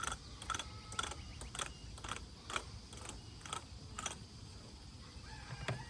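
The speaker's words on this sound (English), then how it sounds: "Running this queen excluder cleaner through here with these teeth." A toothed queen excluder cleaner scrapes across a beehive queen excluder in a series of rasping, ratchet-like strokes, each a short grating burst repeating at an uneven pace, close up.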